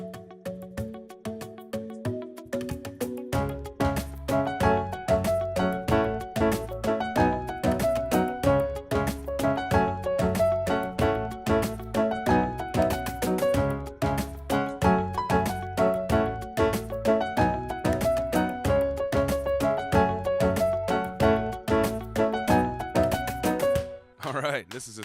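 Piano playing the chorus of a pop song in an advanced arrangement, with steady rhythmic chords and a bass line. It runs continuously and close up, then ends abruptly.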